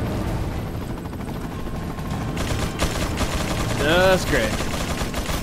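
Enemy gunfire in the Resident Evil 4 video game, a dense rattling burst of shots over game noise and music, with someone talking briefly over it.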